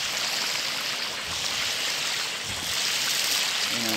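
Water pours steadily into a cooking pot of rice for Tajik pilaf, a continuous broad splashing rush held at even loudness throughout, close by and alone.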